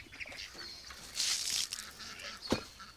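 Farm ducks are heard nearby during chores, with scattered quacks, wing flaps and bursts of rustling and splashing around them, irregular and fairly close.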